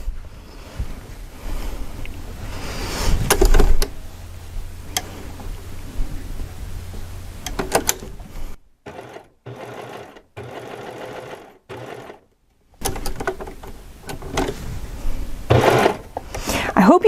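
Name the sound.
serger sewing machine stitching a rolled hem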